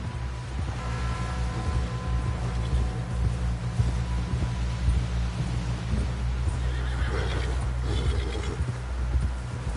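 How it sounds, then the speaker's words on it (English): A horse whinnies loudly against a heavy low rumble, with hooves clopping and faint mechanical noise beneath. "Someone help John down off this horse."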